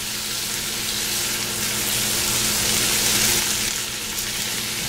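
Onions frying on a stovetop make a loud, steady sizzle with a constant bubbling hiss and a low hum beneath, with no speech.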